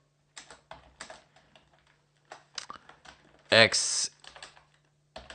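Someone types C++ code on a computer keyboard, close clicking keystrokes in irregular bursts with a louder clatter near the end, while a person talks intermittently.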